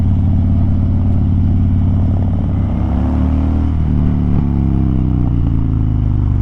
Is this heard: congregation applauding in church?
no